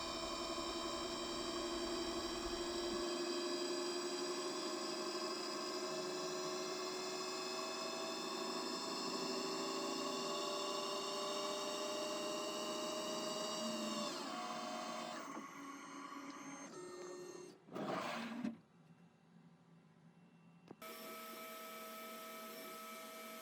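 A CNC mill cuts wax dry with no coolant, a steady loud tonal whine with layered harmonics running continuously for about fifteen seconds before it shifts, stops briefly and resumes.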